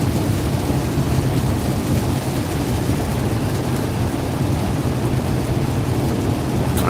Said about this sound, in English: here comes the rain. Here comes the rain again.